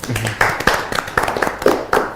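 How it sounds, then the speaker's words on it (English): A small group claps for themselves at the end of a youth discussion program, a short run of sharp, separate hand claps with uneven rhythm, close and fairly loud. "We can first clap for ourselves."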